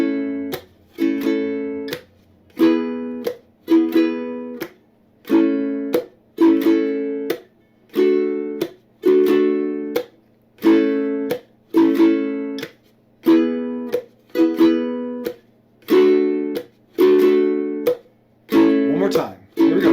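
A ukulele strummed in a mute, down, mute, up, down pattern over a chord progression starting on A, bright chords in a steady repeating rhythm with choked muted strokes between them, played close and clear.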